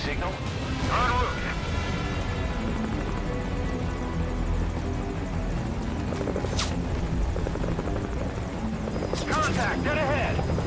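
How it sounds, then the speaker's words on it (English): Helicopter flying in the Metal Gear Solid V: Ground Zeroes video game, a loud, steady rotor thump and engine drone throughout, under shouted radio-style voices and scattered gunfire-like bursts. "Keep them off the chopper."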